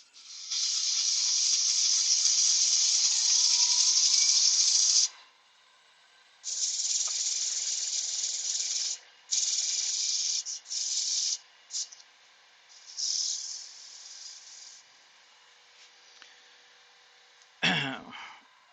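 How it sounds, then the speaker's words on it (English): Sandpaper rasps against a larch wood vase in close, steady rubbing strokes: one long pass, then several shorter bursts with pauses, ending in a brief louder scrape. "We'll try a wee bit of sandpaper on that to finish that."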